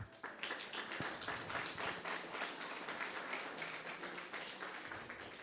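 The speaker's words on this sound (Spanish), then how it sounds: "Dale un fuerte aplauso a su Señor." A church congregation applauds to the Lord, steady dense clapping from many hands filling the room, fairly distant and soft, with no voices over it.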